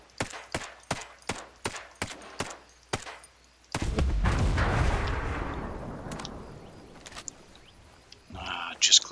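Single-fire shots from a 553 assault rifle in Ghost Recon Breakpoint, about eight sharp evenly spaced reports followed by a long rumbling blast that slowly fades, then a few faint clicks.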